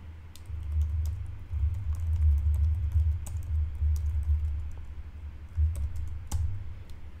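Commands typed on a computer keyboard, a fast run of light key clicks over a low hum, with a few sharper taps standing out, heard close and alone.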